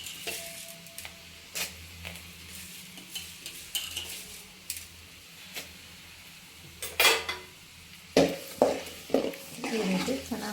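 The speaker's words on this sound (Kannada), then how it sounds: "ಈ ರೀತಿ ಚೆನ್ನಾಗಿ ಫ್ರೈ ಮಾಡ್ಕೋಬೇಕು" Chana dal and urad dal frying in a pan for lemon rice, with a low sizzle under repeated spoon scrapes and metallic clinks, the stirring growing busier and louder toward the end, close by and with no voices.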